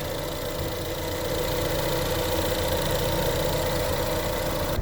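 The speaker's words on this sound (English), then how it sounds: "Now with the motor running," A 2015 Ford Escape engine idles close by with a steady, even low hum and rumble that keeps up without a break for several seconds.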